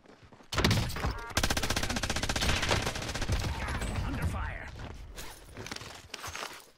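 Gunfire from a sniper rifle in a video game, the Iron Trials mode, comes as loud shots over a sustained rattle of battle noise that slowly fades, with a heavy thump near the end.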